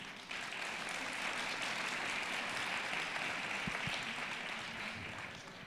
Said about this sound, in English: An applause for our invited guest today,